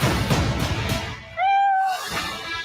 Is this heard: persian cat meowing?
yes